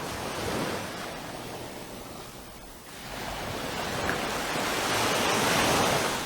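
Waves break steadily along a glowing coastline at sunrise near Fitts Village and Prospect, a broad continuous surf roar with light wind noise on the microphone, swelling louder toward the end, with no talk.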